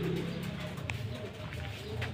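A pet pigeon or dove coos softly a few times in an outdoor setting, its low murmuring call near and fairly clear over a steady background hum.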